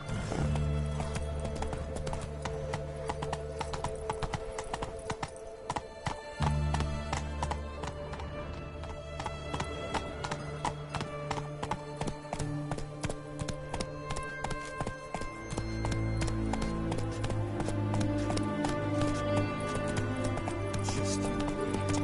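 Galloping hooves of the horse Roach in a video game, a steady rapid clip-clop running throughout over a dense music score, with no talking.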